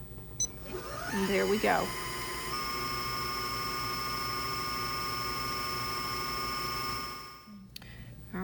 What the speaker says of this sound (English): Your picture will come up and say bobbin winding. I'll press the pedal